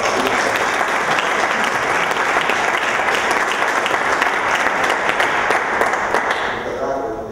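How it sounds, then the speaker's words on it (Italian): Audience applause at a corporate event held at the Granarolo headquarters, dense sustained clapping from a large crowd that stays loud throughout and fades slightly at the very end. "facciamo un applauso"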